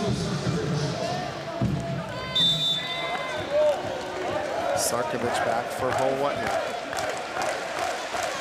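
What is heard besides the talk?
volleyball crowd cheering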